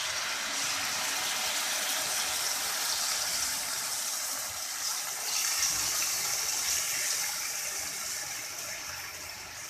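Marinated chicken with garlic paste fries in a pan, giving a continuous hissing sizzle at moderate level, with a slight surge partway through and no talk.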